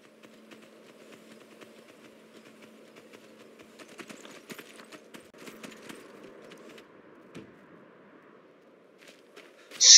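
Horse hooves clopping in a steady walking rhythm as a mount climbs a mountainside in the video game Skyrim, soft and fairly faint, with a brief louder knock at the very end.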